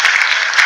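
Brief burst of applause played in on a talk show, a dense steady wash of clapping at full level with no talk over it.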